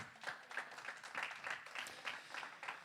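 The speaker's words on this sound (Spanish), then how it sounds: "Dale un aplauso al Señor" Quiet, distant clapping from a standing church congregation applauding the Lord, heard as a rhythmic series of roughly evenly spaced claps at low volume.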